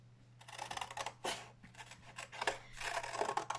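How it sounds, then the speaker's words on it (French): Scissors snip through paper parts for a small desk storage box, a close run of crisp cuts and sliding rasps in uneven bursts with short pauses between strokes. "Donc, nous allons couper ces parties."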